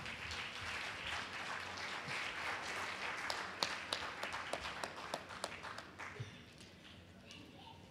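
An audience at an award ceremony for a neighborhood poster contest gives sustained applause for the finalists, dense and steady before thinning into scattered claps and fading near the end.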